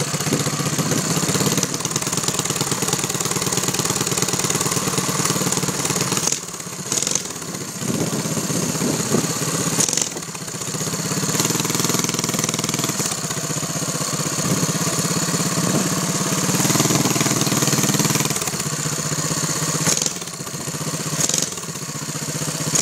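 A Baja Doodlebug mini bike's small disposable engine runs nearby, a buzzing putter that holds steady with a few brief dips and surges, loud and alone.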